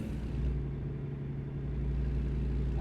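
Steady in-game engine drone of a car overtaking a semi truck in American Truck Simulator, a continuous low hum that holds at an even level throughout, with no voices heard.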